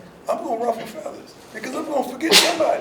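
A single sharp sneeze bursts out near the end, close and loud. Someone speaks just before it.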